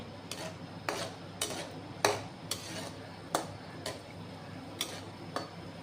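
Raisins fry in a pan over a low flame while a utensil stirs them, giving a steady series of sharp scraping clicks against the metal about every half second over a low background hum.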